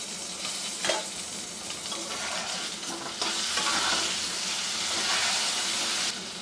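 Food fries in a pan for a Bengali vegetarian dhokar dalna with potatoes, giving a steady loud sizzle and hiss that grows stronger partway through, with a brief clatter near the start and no talk.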